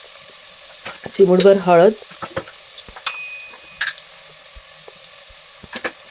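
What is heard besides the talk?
masala spices sautéing in a pan for mutton sukka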